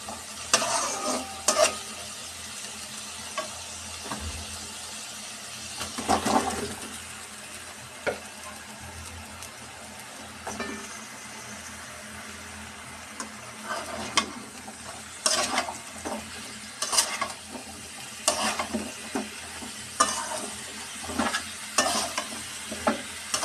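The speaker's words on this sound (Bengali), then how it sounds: "মশলাটা ভালো করে কষানো হয়ে গেলে দিয়ে দিব এর মাঝে ধুয়ে রাখা লাউ।" Washed bottle gourd being stir-fried in cooked-down spice paste, with repeated scraping stirs and steady sizzling, louder spatula strokes at intervals over a continuous frying hiss; no voices.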